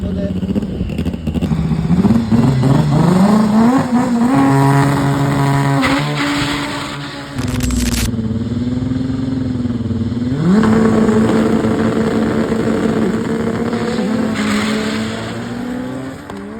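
Loud, close engine roar from an all-wheel-drive Honda Civic at a drag racing event. The pitch climbs steadily through the gears with brief breaks between shifts, then settles into a sustained high drone, set against outdoor racing-event noise.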